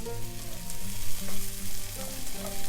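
Sausage fries in a pan with olive oil, a steady dense sizzle and crackle heard close up, alone and without a break.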